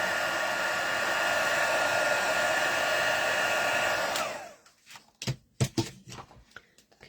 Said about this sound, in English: it's not taking as long now because of the heat gun's nicely warmed up